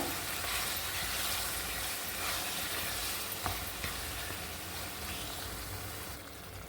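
Chicken for a chicken gravy sizzles steadily in hot oil while being stirred, a dense and continuous frying hiss with occasional scrapes from the stirring.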